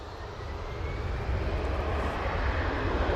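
An EasyJet airliner on its take-off roll gives off a distant, broad engine rumble that swells gradually over a few seconds, with no voices.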